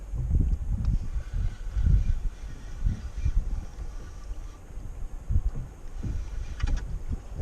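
Boat moving across the sea off Marmaris, a steady low rumble of engine and water wash swelling and easing throughout, with wind buffeting the microphone.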